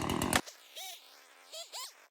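Chainsaw pruning a 500-year-old olive tree: a loud opening burst, then several short revving pulses with rising and falling engine pitch separated by quiet gaps, close to the microphone.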